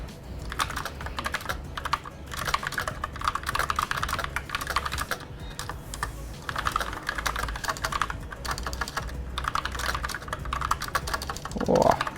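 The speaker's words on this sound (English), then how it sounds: "have a realistic typing experience here" Steady, rapid clicking of mechanical keyboard keys, close up, with short pauses between bursts and a brief knock near the end.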